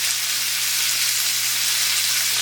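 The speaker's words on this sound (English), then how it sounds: "I've got a hot pan going here, and I've added my chorizo, so I need to cook that up first" Chorizo fries in a hot pan with a steady, bright, close-up sizzle that holds even and unbroken, with a faint low hum beneath.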